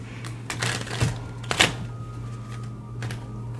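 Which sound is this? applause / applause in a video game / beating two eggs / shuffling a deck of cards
shuffling a deck of cards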